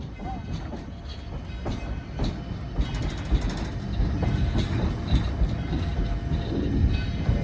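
A Virginia and Truckee Railway train runs on the rails with a loud, steady rumble and rhythmic clickety-clack of wheels over track joints, growing slightly heavier as it continues.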